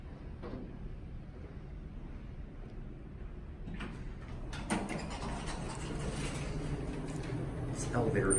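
Large Dover Impulse elevator doors at a college campus slide with a low mechanical rumble that builds and brightens toward the end, while voices talk nearby.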